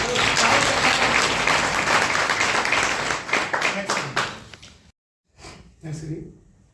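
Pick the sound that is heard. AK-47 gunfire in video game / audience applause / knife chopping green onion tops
audience applause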